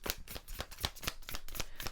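Tarot cards are shuffled close up, a quick run of crisp riffling flicks in a steady rhythm, quiet and with no voices.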